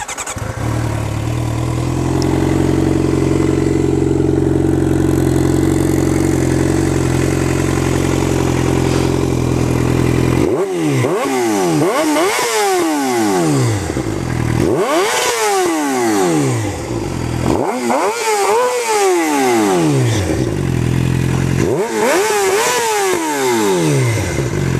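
A Suzuki GSX-R 600 K13 fitted with an M4 GP exhaust idles with a steady, loud burble. Then it revs sharply four times, each blip rising to a snarl and falling back to idle, with no talking.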